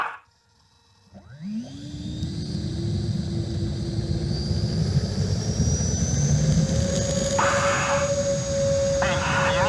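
Two RC jets, an E-flite Viper 90 and a Freewing L-39, spool up their ducted fans from silence into a steady, rising whine and roar on a full-power takeoff run, with people talking briefly nearby.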